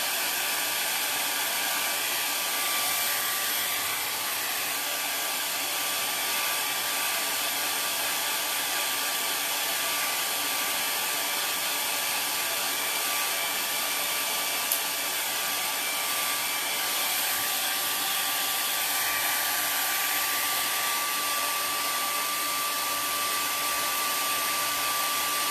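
A hair dryer blows continuously to dry the finish on a DIY wooden flag, a steady loud rushing hiss with a faint whine running the whole time without pause.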